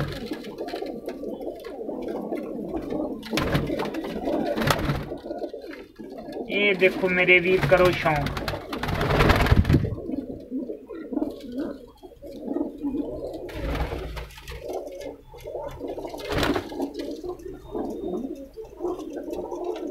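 Racing pigeons on a rooftop in Ludhiana coo and flutter intermittently, loudest in a burst near the middle, while someone talks over them close to the microphone.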